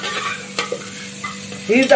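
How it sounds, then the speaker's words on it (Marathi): Leftover mixed toor, masoor and moong dal, reheated and stirred into a sizzling pan for dal khichdi, giving a soft frying hiss with a few spoon scrapes and clinks. "आता ती मस्त मिक्स करून ऍड करायची"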